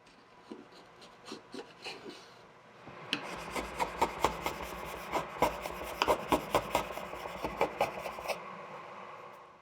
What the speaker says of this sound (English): Then I'll clean things up a bit and scrape off the glue squeeze out.